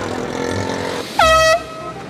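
A loud air horn, like a truck horn, blasts once for about a third of a second right into a person's ear, close and piercing over a steady background of traffic noise.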